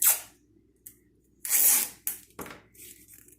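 Tape being torn and pressed onto a canvas over strings for a string painting: short ripping bursts, one long tear in the middle, faint and close with quiet gaps between.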